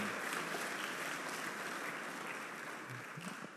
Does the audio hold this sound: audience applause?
yes